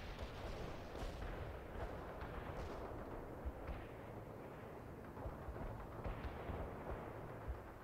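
An artillery barrage in the real-time strategy game World in Conflict: a continuous, faint, distant rumble of heavy shelling, with repeated muffled booms and no talking.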